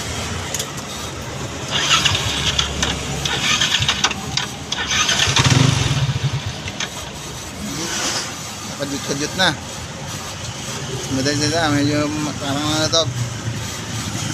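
A Yamaha NMAX V1 scooter's engine cranks and starts, then runs at a rough, uneven idle nearby, with people talking over it throughout.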